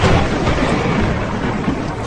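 Heavy rain with a deep rolling rumble of thunder in a stormy forest for a Hindi horror story, loud and dense throughout.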